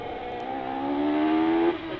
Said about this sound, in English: Steve Garner braking heavily into fallow